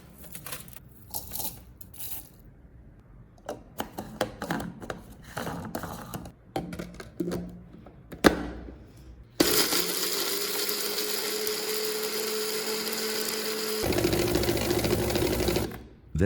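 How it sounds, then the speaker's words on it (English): A blender grinding dried ginger into powder whirs loudly and steadily for several seconds, changing pitch partway through, after a stretch of clattering and tapping sounds. "she put it into the blender and ground it down into a fine powder."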